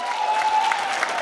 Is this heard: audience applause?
yes